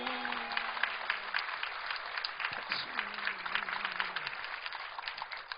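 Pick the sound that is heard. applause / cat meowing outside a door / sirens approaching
applause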